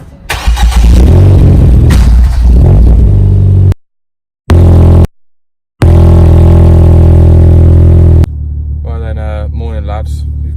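A Ford Fiesta ST-3 with a faulty exhaust awaiting a new 3-inch system, its engine starting and revving in loud, deep bursts up close, broken by abrupt gaps, followed by a quieter idle with a voice talking over it.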